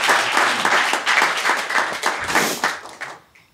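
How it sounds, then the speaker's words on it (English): Audience at a live podcast event claps, a fairly loud burst of mixed clapping that thins and fades away toward the end. "Yeah, you can clap"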